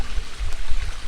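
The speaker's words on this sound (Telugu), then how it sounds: "సో వాటర్ ఫాల్ కాకుండా వాటర్ ఫ్లో" Water from a small hillside waterfall pours down in a steady, close rushing wash with low rumbling, and nothing else heard.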